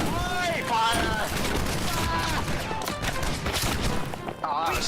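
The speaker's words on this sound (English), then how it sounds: "Pistol volley at the same time." Pistol volley in a Napoleonic-style line-battle video game, with a dense crackle of many shots fired together, loud and close, followed by scattered reports, under steady game ambience and background voices.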